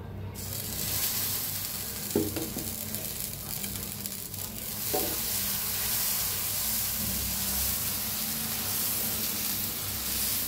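Moong dal dosa roasting on a pan over medium heat gives a steady, close sizzle and hiss throughout, with a couple of soft scraping touches early on.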